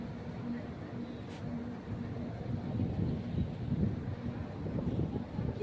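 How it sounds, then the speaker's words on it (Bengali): Wind rushes past the open doorway of a moving train, a steady close broadband roar with a low rumble that swells slightly toward the end. "কি হাওয়া দিচ্ছে দেখছেন, চুলফুল সব এলোমেলো হয়ে যাচ্ছে"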